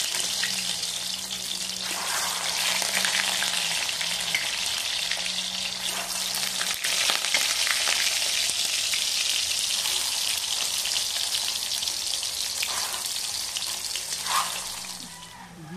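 Loud, continuous crackling and sizzling of food frying in a pan, close up, with a faint low hum underneath and no talking.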